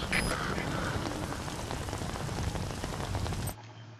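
Steady rainfall in Metal Gear Solid V: The Phantom Pain on PS4 patters in a continuous hiss of drops, then cuts off abruptly near the end.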